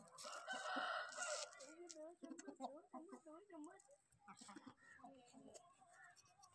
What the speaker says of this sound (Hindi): ये सफ़ी के सारे असील मुर्गे सफ़ी ने रखे हुए हैं।